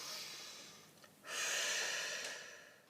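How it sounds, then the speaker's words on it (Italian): A single deep breath, heard up close: a soft inhale first, then a longer, louder breathy exhale, with no talk. "Ok, facciamo un respiro profondo."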